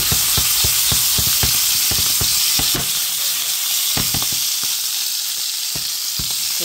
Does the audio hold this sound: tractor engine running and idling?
no